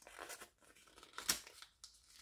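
Paper banknotes are folded in half and then in quarters to fit into a budget envelope, giving soft crinkles and rustles with one sharper crisp crackle in the middle, close and fairly quiet.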